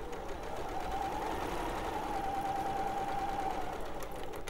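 A sewing machine stitches a floral folk quilt in a steady, fast mechanical whir that runs unbroken and fairly loud throughout, with a faint rising hum partway through and no voices.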